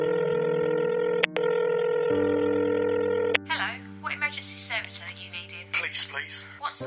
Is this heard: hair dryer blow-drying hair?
no